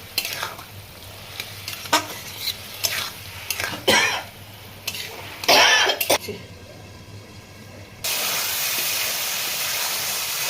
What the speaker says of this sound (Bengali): মশলাটা যাতে না পুড়ে যায় তার জন্য একটু জল দেবো